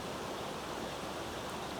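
Steady creek water flows through the bush during deer stalking in the roar, a constant, even wash of running water with no pauses, close and moderately loud throughout.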